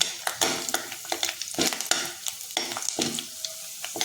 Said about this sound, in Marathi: हा सुकवलेला जो कांदा आहे तो आता तळून घेणार आहे